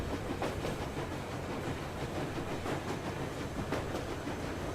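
A train rolling on rails in the Metro Exodus video game gives a steady, loud rumbling roar with a faint rhythmic clatter of wheels throughout, with no talking.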